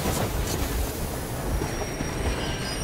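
A train rushes past in the video game Metro Exodus: a loud, steady rumble of wheels on rails with a high squeal running throughout, close and continuous, with no voices.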